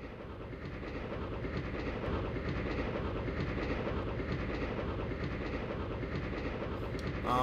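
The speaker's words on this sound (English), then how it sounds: "Yay! Train!" Steady rolling train rumble with rhythmic clickety-clack from the video game Grandia, loud and continuous throughout with no talk over it.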